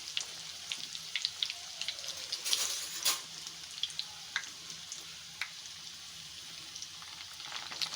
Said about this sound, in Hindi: इसको मैंने इसमें डाल के अच्छे तरीके से फ्राई कर लेना